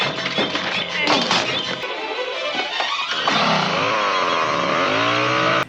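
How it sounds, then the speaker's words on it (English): A chainsaw in the film Friday the 13th Part 2 (1981) revs and whines loudly, its engine pitch rising and sustaining near the end after a few knocks and thumps. "Chainsaw Ginny."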